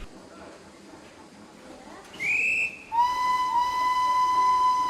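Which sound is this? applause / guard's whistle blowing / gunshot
guard's whistle blowing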